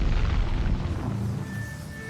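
In Horizon Zero Dawn, an enemy's backpack set on fire bursts in a loud, deep boom that rumbles and slowly fades over about two seconds.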